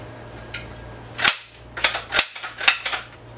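CZ Scorpion 3+ pistol-caliber carbine being cleared, with a few sharp metallic clacks of the magazine and action being worked, close and loud in a quiet setting.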